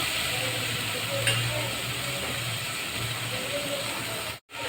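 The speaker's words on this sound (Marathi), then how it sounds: "सगळी मटकी घालून घेतलेली आहे त्याच्यात मी आणि चांगली घोळून त्याची सगळी घोळून मस्त त्याची शिजून घ्यायची आपल्याला" Moth beans (matki) being stirred while they cook for a spicy Kolhapuri misal: a continuous close hiss and sizzle with an occasional scrape of the spoon, ending abruptly.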